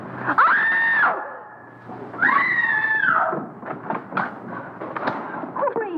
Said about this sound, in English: What's all the racket? Pounding on walls,